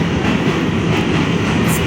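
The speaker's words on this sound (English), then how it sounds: "this is the bridge that join Brooklyn and Manhattan. It's my first time that so the train, the line is the N." An N subway train runs across the bridge between Brooklyn and Manhattan, a loud, steady rumble and rattle heard from on board, with no talking.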